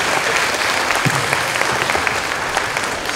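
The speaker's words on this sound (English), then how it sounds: "give yourselves a round of applause for what you do" An audience at a school leadership awards program claps for itself, producing a loud, continuous burst of applause with a few sharper nearby claps standing out.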